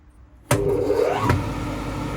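After a brief quiet, the motor of a Transwave phase converter kicks on with a sudden thump and whirs up to a steady, humming drone that continues to the end.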